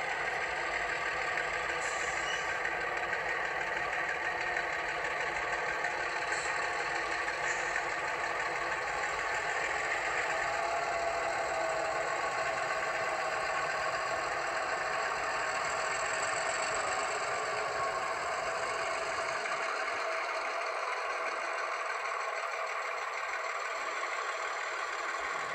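Athearn Genesis GP15 model diesel locomotives fitted with sound decoders and speakers on a model railroad layout, idling with a steady mid-pitched engine drone and rattle that runs unbroken throughout.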